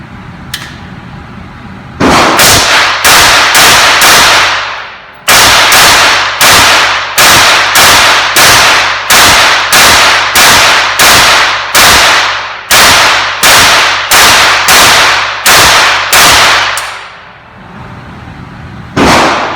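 An FN PS90 rifle with a fresh magazine fires a long string of loud, close shots in steady, evenly spaced succession, with a short pause after the first few before the rapid firing resumes.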